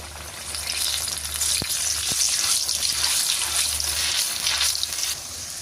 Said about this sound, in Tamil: எண்ணெய் நல்லா கொதிச்சுட்டு முதலாவது பூரியை போட்டாச்சு